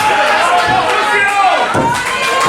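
A live wrestling show crowd cheers loudly and continuously, a dense roar of voices with scattered shouts and a few thuds from the ring, with close talking running throughout.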